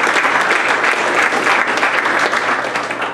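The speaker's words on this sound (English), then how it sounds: "So let's give all those folks a round of applause." A meeting audience at a school board session in Arcata applauds, dense sustained clapping throughout at steady loudness.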